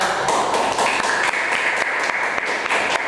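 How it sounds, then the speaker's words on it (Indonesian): A classroom group of students claps for a fellow student group during an Islamic religious education lesson. The applause is dense and steady throughout, with sharp individual claps standing out against the continuous patter. "Berikan tepuk tangan buat kelompok 2"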